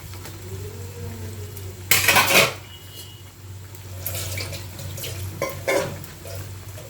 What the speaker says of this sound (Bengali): এটার মধ্যে একটু জল ধুয়ে দিয়ে নিব তেল লেগে আছে